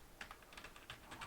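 Quiet, quick keystrokes on a computer keyboard while entering code, a short irregular run of light clicks heard alone and close.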